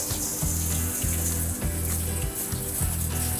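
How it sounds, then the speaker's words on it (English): Tap water runs steadily into a kitchen sink as an eggplant is rinsed, a constant loud hiss and splash with a rhythmic musical backing underneath. "What we do is we take it and we'll rinse it."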